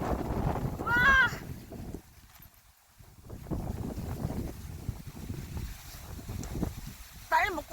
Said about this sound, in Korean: 너무 바람이 많이 분다